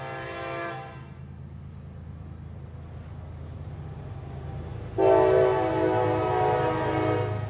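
A train rumbles past nearby with a long horn blast sounding near the start and again louder toward the end over the steady rolling of cars.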